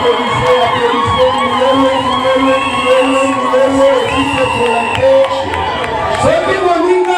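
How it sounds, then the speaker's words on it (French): Wedding reception guests cheer and whoop for the newlyweds, a loud, lively crowd of shouts and scattered claps over sustained musical tones, continuing for about seven seconds. "Applaudissez, applaudissez s'il vous plaît, applaudissez les mariés, applaudissez."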